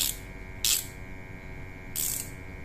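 A flex head ratchet wrench clicking while tightening: two short quick bursts of metallic ratcheting clicks, close and fairly quiet, separated by a pause over a faint steady background hum.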